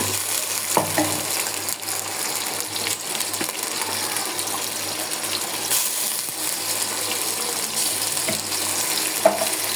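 Ginger paste frying in a pan for pulao, a continuous loud hissing sizzle with occasional faint clinks, steady throughout and close.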